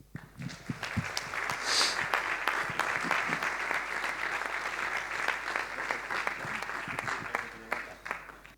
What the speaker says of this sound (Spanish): nada más que dar un aplauso a Gregorio